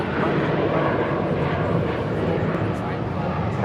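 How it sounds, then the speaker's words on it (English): A Global Express business jet departs, a loud, steady engine roar that holds for several seconds with a slight fade near the end, while people talk over it. "This Global Express is departing to Denver, Colorado."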